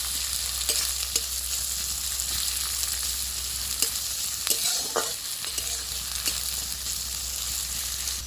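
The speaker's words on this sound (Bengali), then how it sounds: "পেঁয়াজটা ভাজা ভাজা হয়ে গেছে" Onion frying in a pan for a jackfruit seed curry, a steady close sizzle with occasional scrapes and stirs of a spoon running through the whole stretch, no voices.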